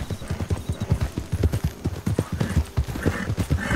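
Many horses' hooves clip-clop on a hard surface in a rapid, overlapping rhythm, close by and loud, with no talking.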